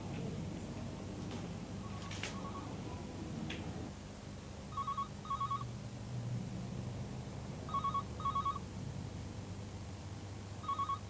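A telephone rings with the British double-burst cadence, repeating in paired trills every few seconds. The ringing is faint and distant over a quiet room background.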